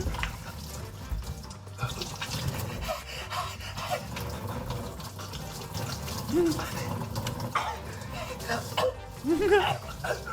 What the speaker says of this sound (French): Et c'est quoi ce robinet là? L'eau elle part pas bien.